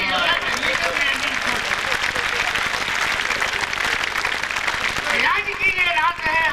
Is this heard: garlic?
no